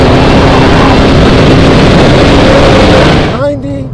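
Chevrolet Camaro ZL1 or Ford Mustang Boss engine accelerating on a race track toward the finish line, a loud close roar with rising pitch that eases off at the end, with someone talking over it.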